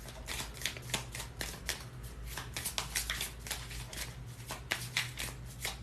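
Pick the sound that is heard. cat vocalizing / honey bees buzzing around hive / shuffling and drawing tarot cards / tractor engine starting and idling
shuffling and drawing tarot cards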